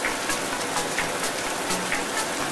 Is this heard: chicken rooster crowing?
no